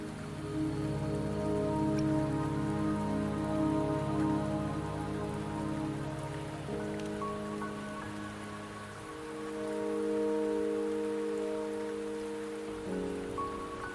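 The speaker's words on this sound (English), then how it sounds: "Don't worry, the rain won't last much longer." Steady rain falls in the video game Wuthering Waves, a continuous patter that holds for the whole stretch with a sustained musical score layered over it and no speech.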